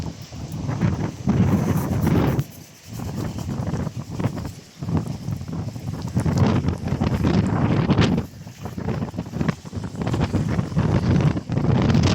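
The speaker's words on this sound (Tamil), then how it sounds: "இப்போ வந்து காற்று குறைஞ்சிருக்குது" Strong wind buffets the microphone outdoors in Mullaitivu, a loud, continuous roar that rises and falls in gusts, with brief lulls and no speech.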